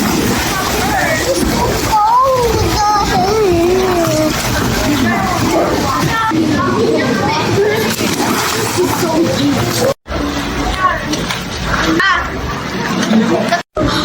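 Busy splashing and sloshing water in a beach resort swimming pool, with lively chatter and children's voices throughout, two brief dropouts near the end.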